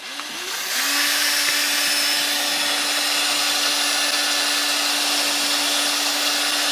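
A drill spins a propeller mixer at slow speed while stirring casting resin for pen blanks. It spins up at the start, then holds a steady, close whirring drone with a constant tone and no talk.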